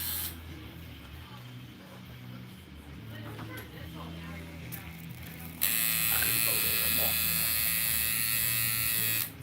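A coil tattoo machine buzzes steadily while tattooing a palm, a close continuous electric drone that grows louder and brighter partway through, with people talking over it.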